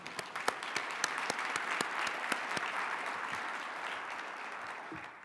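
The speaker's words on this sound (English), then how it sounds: "Let's give them a huge round of applause." A convention audience at an education gathering gives a round of applause, a soft, sustained wash of many hands clapping, with a few sharper individual claps standing out early before it slowly fades.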